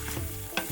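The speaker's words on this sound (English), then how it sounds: "mix it up." Onion, garlic and other ingredients for mac and cheese are stirred in a pan, giving a short scrape and sizzle with a brief louder clatter near the end, with no talking.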